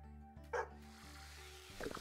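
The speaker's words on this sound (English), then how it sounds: "So they've added, like, the dog barking." In the video game No Place Like Home, a dog gives a single short bark over a steady droning background hum, followed by a second quick yip near the end.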